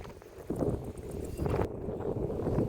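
Gusty wind near Kardamena buffets the microphone in uneven rumbling bursts on a tree-covered mountain, rising and falling over a few seconds with no voices.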